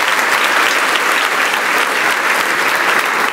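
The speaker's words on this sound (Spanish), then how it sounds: "con esas manos dele otro aplauso a su gran Dios poderoso" Congregation applauding in a church during a Sunday service, loud continuous clapping from many hands, close and steady throughout.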